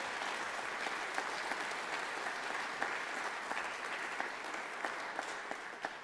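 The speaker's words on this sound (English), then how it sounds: "give yourselves a big round of applause" A large audience at a contest results ceremony applauds steadily for the full six seconds, a dense, even wash of many hands clapping at moderate loudness with no voices standing out.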